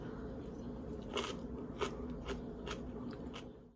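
Close biting and crunching into homemade cabbage sauerkraut, a handful of crisp crunches spaced roughly every half second over quiet room tone.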